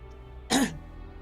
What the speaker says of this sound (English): Nutley lets out a nervous cough.